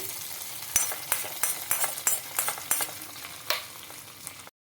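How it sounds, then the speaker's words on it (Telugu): A tempering for coconut chutney sizzles in a hot pan, sending out a quick series of sharp, close crackling pops over a steady frying hiss before cutting off abruptly. "చట్నీలోకి పోపు కూడా రెడీ అయిపోయిందండి"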